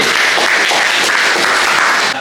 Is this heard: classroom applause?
yes